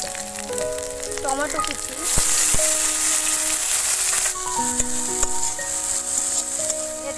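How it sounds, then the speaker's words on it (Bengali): Grated ginger and chopped chili fry in a hot pan with cloves, giving a loud steady sizzle with spoon stirring and scraping, while a voice talks briefly over it. "হালকা ভেজে নেব।"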